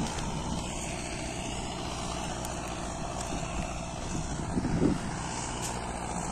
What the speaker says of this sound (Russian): Трактор китаец.